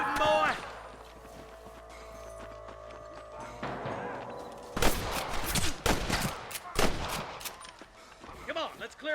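Rapid, sharp gunshots crack in a Red Dead Redemption shootout between deputies and gunmen near a camp, irregular volleys of rifle and pistol fire mixed with shouting voices and horse hooves.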